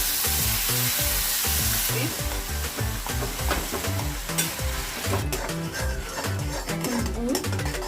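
Milk and a little water hit hot ghee in a pan for a chana dal chikki recipe, sending up a steady, close sizzle over rhythmic background music.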